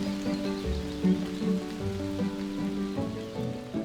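Rain falls outdoors in a steady, fairly quiet patter, mixed with a low continuous hum and no voices.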